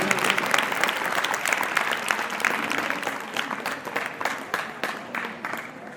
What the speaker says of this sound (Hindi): एक बार बच्चे ताली बजा दें सबके स्वागत में